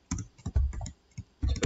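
Code is typed on a computer keyboard up close: quick bursts of clacking keystrokes in irregular clusters, separated by brief pauses, with no voices.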